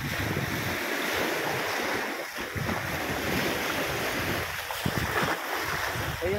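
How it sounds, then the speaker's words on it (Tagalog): Strong waves crash against the shore in a continuous roar of surf, loud and close, with wind buffeting the microphone throughout and no voices. "Ang lakas ng along humampas sa tabing gilid."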